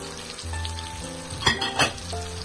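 Sliced chilies sizzle steadily in hot oil for a stir-fry of banana blossom and jackfruit with tom yum sauce, with two sharper bursts of crackling as the pan is stirred, close and moderately loud with no talk.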